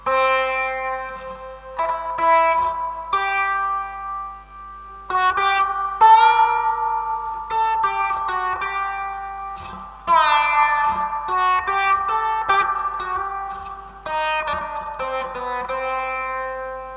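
A sitar played through a reverb effect rings out in bright plucked phrases with a long, washy reverb tail, notes overlapping and lingering between plucks.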